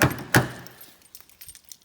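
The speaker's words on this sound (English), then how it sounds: "So to lock the car, all you need to do is press the button, it'll lock the car up." A 2012 Toyota Aqua (Prius C) locks with its smart key. Two close, sharp clunks sound a third of a second apart, followed by faint small rattles in quiet surroundings.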